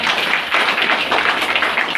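An audience at a talk applauds in a dense, even burst of many hands clapping together, loud and close, with no voices over it.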